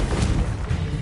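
Confringo blasting spell striking in Hogwarts Legacy, a dense crashing burst with thudding low rumble that stays loud and full for about a second, with no clear pauses.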